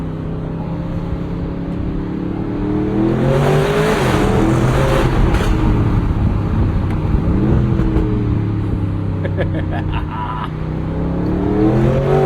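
A 2026 Aston Martin engine sounds steadily from a driver's-seat position as the car is driven, the note rising and falling through gear changes and revs, loud and continuous with no talk over it.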